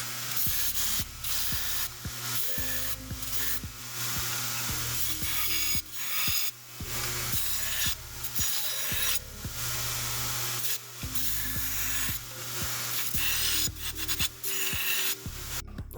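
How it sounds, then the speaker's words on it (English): Steady abrasive sanding of a hand-forged leaf spring steel cleaver's bevels, continuous rasping strokes with brief pauses, close and fairly loud, with a faint tonal machine hum beneath. "I'm busy sanding the bevels, getting them even"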